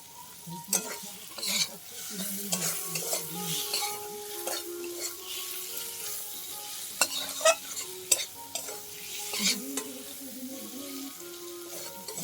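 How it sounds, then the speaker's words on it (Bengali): Prawns stir-fried with spices in oil in a pan, a close sizzle with repeated scraping and clattering of a spatula in an uneven rhythm throughout. "তারপরে এই মশলা দিয়ে ভালো করে চিংড়ি মাছটাকে একটু কষে নিলাম"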